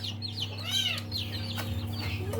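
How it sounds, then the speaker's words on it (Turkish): Chickens with chicks clucking close by, with a few bird calls rising over a steady low hum in the background. "Tavuklarımız, tavuklarımızın civcivleri var."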